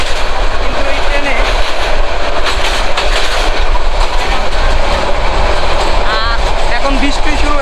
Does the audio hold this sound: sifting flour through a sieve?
no